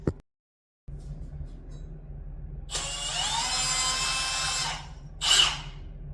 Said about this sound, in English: the best way to do it is with a power drill